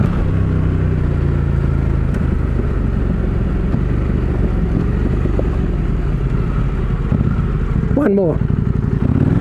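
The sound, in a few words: motorcycles riding on the road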